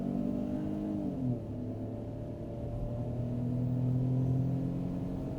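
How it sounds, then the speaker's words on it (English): A Ford Bronco Sport's inline-three engine pulls hard from a standstill to 60 mph in sport mode, its droning hum rising in pitch, dropping at a gear change, then climbing again steadily, heard from inside the cabin with no talk. "a 0 to 60 test or 0 to 100 kilometers an hour in 3, 2, and... Come on, inline 3!"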